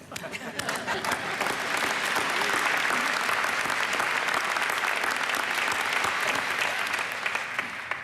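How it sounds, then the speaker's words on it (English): Sustained applause from a large crowd at a university autumn convocation, steady and dense throughout, building slightly at the start and fading a little near the end. "Please join me in another round of applause."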